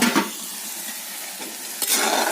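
Chicken frying in a pan with masala as it is stirred: a short, close sizzle with scraping stir strokes at the start and again near the end.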